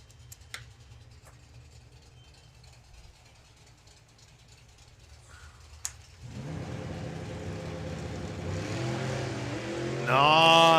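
VW drag racers at a drag strip, a Honky Tonk 210 sedan against a Mighty Mouse car, with quiet idle and clicks giving way to a loud rising engine roar as the launch builds and climbs near the end.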